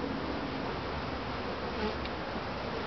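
Honey bees crowd a comb lifted from a top bar hive, making a dense, continuous close-up buzz that holds steady throughout.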